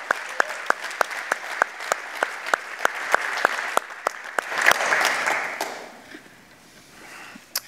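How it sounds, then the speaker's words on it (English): Audience applause at a talk builds into a dense, close wash of clapping, with a few sharp individual claps standing out at a regular pace, then thins out and fades toward the end. "So I'm just going to ask for a little round of applause that way."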